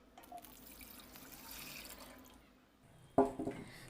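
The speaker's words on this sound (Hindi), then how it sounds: "पैन में हम 3 कप पानी डालेंगे" Water is poured into a pan for making Kashmiri chai, a soft trickling stream followed by a brief louder splash near the end.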